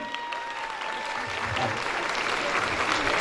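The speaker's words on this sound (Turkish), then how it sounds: "Onları bir alkışlayalım." Applause from a graduation ceremony crowd, a steady broadband patter of many hands clapping that swells slightly and carries on throughout, with a faint tone underneath and no talking.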